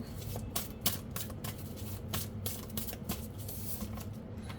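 Tarot cards are shuffled steadily for several seconds, a dense run of close, crisp riffling flicks with no talk over it.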